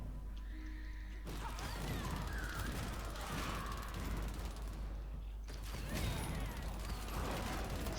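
Rapid mechanical gunfire from automated turrets in the action RPG Warhammer: Chaosbane, a dense continuous barrage of shots and crashing impacts with no talk over it.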